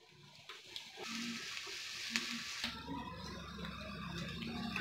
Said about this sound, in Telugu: ఉల్లిపాయ ముక్కలు వేసి బాగా ఫ్రై చేసుకుందాం